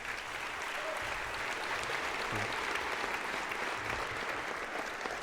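Graduation ceremony audience applauding the graduates in a hall, steady dense clapping throughout with no pauses, fairly loud and continuous from start to finish.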